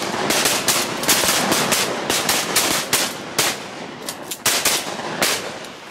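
Rapid, loud gunfire from hunters shooting at birds, with dense overlapping shots and bursts of repeated blasts over about six seconds, nearby and continuous without talk.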